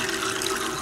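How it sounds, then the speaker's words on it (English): Water runs steadily from a hose into a blue bowl gold concentrator, a constant close hiss of flowing liquid with no voices. "We've got the water coming out."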